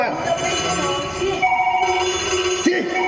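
A telephone rings with a steady tonal electronic ringtone, loud and close, under a voice speaking over it.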